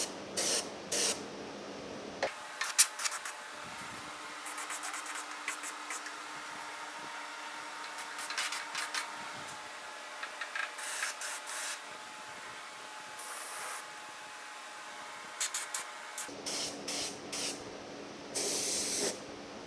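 Spray gun applying paint inside a 1950 Chevy five-window truck cab, in long continuous hissing passes broken by short bursts, close and steady, with brief pauses between strokes.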